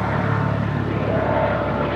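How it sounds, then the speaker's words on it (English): A helicopter passes overhead above a backyard koi pond and garden, its steady rotor drone continuous and moderately loud beneath the outdoor ambience. "Chopper."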